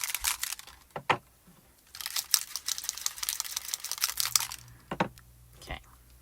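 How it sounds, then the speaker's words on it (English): Mixing balls rattle inside small Spectrum Noir sparkle ink pots as they are shaken, coming as bursts of sharp clicking and rattling, some brief and some lasting a couple of seconds, close and fairly quiet. "You can hear the mixing balls in there."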